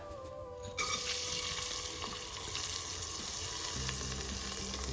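Moong dal tipped into a hot pan of ghee sets off a sudden, steady sizzle that runs loud and continuous, with faint stirring underneath.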